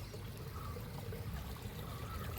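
A stream carrying water released from a dam flows steadily, a soft, continuous trickling and gurgling heard faintly on its own with no voices.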